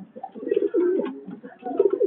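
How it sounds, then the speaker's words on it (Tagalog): Pigeons coo softly in low, throaty, repeated calls, close by and overlapping, with brief pauses between phrases. "Yan mga ibon namin."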